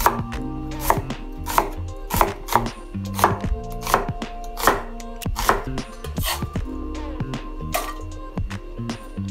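A knife cuts onion into thin strips on a cutting board for a homemade Neapolitan-style pasta, about fifteen sharp, evenly spaced chops ringing out close and clear over a steady low background hum.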